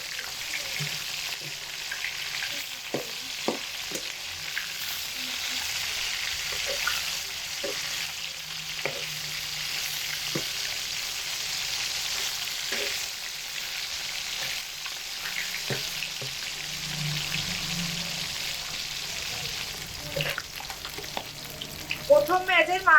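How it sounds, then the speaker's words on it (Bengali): Pieces of fresh katla fish fry in hot oil in a pan, a continuous close sizzle with soft stirring and turning sounds, a spatula clatter near the end, no speech. "প্রথম ব্যাচের মাছগুলো ভাজা হয়ে গেছে"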